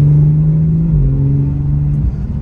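A small, powerful car accelerates hard with a loud, steady engine drone that shifts pitch briefly, heard from inside the cabin with no talking.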